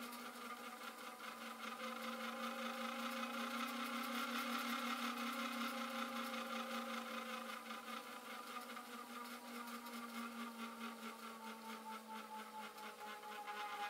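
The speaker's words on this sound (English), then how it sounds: "I use the extruder motor to wind the wire" A 3D printer's extruder motor turning steadily to wind wire, a continuous whirring hum with a faint rhythmic mechanical texture that swells slightly and then holds, heard alone and fairly quiet.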